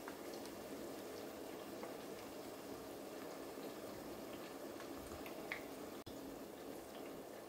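Steady crackling sizzle of thinly sliced eggplant frying in hot oil, continuous and fairly quiet, with no voices.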